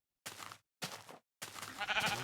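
Three short sheep bleats from a Minecraft Beta 1.7.3 game, close and clear, the last one longer and wavering, with silent gaps between them.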